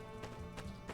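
Faint hoof clip-clops from a ridden mount in the video game My Time at Sandrock, three soft evenly spaced steps over a quiet background.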